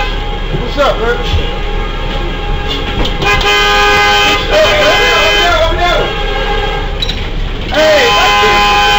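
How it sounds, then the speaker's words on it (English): A freight train horn sounds at a rail crossing as a MARTA passenger bus sits in its path, sustained loud tonal blasts repeated several times over traffic noise, with voices talking underneath. "They heard the train's horn"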